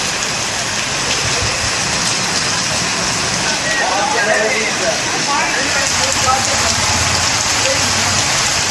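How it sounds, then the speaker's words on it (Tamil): Heavy summer rain driven by wind pours down steadily in a dense, loud hiss, with a voice speaking over it. "இடி, மின்னல் மற்றும் காற்றுடன் கூடிய கனமழை வெளுத்து வாங்கியது"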